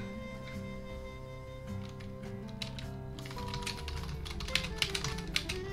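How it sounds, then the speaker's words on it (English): Rapid clicking of computer keys during a Bug Fables game stream, a steady patter of taps layered over background game music with no voices. "I'm typing messages to my friends."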